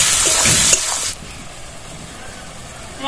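Onions frying in oil with salt for a Bengali pabda fish curry, a bright sizzle loud for the first second then cutting to a much quieter faint hiss for the rest.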